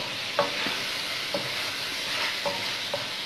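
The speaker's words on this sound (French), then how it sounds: "vous mélangez, vous faites encore frire" Minced meat sizzles steadily in a pan for bolognese sauce while a utensil scrapes and stirs through it a few times, close and even, with no talking.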